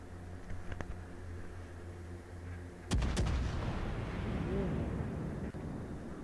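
Heavy warship guns fire in a naval battle video game, a loud booming salvo of several sharp blasts near the three-second mark followed by a long rumbling roar, over a steady low engine drone.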